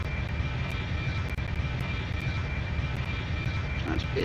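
Airbus A321 airliner engines in a flight simulator game throttled down on landing approach, a steady, loud, broadband roar that holds level throughout, with a faint high whine and a few small ticks on top.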